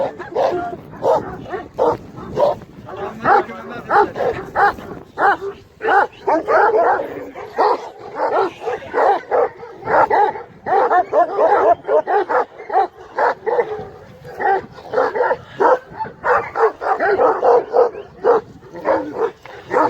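Several young Kangal dogs bark and yip at a strange dog in the garden, in rapid, overlapping bursts, loud and close, with occasional whimpers mixed in throughout.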